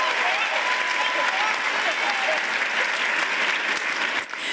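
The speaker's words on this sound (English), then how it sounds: "Round of applause." Applause fills a hall at the Middlesex Community College 2023 commencement, a dense, even roar of many clapping hands with a voice or two faintly audible underneath.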